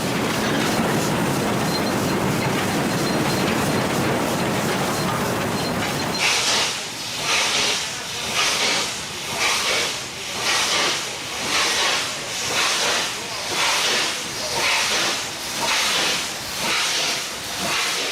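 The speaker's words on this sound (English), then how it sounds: "Nothing evokes the romance of the railway like a steam engine." A steam locomotive hauling the Pondicherry Special on Southern Railway arrives into Pondicherry Station, India, first with a loud continuous hiss of venting steam, then a strong rhythmic chuffing that pulses steadily, close and alone.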